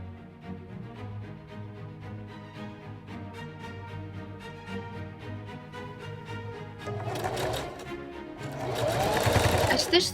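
A sewing machine stitches a waistband onto an 1870s Victorian bustle cage, its needle running in a steady rapid rhythm that grows louder and busier toward the end, close and alone.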